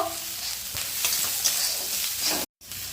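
Chopped onion going into hot oil with green chilli, ginger and garlic for a chicken samosa filling, crackling and sizzling up close with a few stirring scrapes, and a brief dropout near the end.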